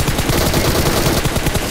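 Rapid automatic gunfire in PUBG Mobile, a dense, loud burst of closely spaced shots filling the whole moment.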